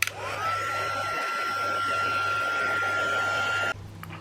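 A heat tool or hair dryer drying glued metallic craft card for a mixed media card, a loud steady whine and rush of air that runs for several seconds and then cuts off sharply.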